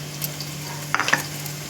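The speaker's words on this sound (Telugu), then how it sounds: "ఉల్లిపాయలు వేగుతున్నాయి కదండి" Onions fry in a pan for Andhra-style mutton dum biryani, giving a low, steady sizzle with a few quick stirring clinks and scrapes near the middle, close by and brief.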